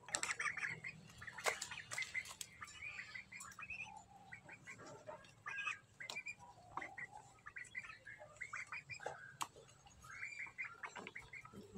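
Backyard ducks (itik) at feeding time in a rural Philippine setting, giving a busy stream of quacks, chirps and squawks at moderate distance, with scattered bird calls and light clatter around them.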